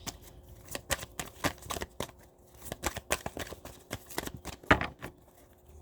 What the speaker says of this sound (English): I would like to pull a couple more cards